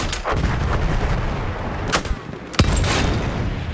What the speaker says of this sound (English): But you're still in that AT gun?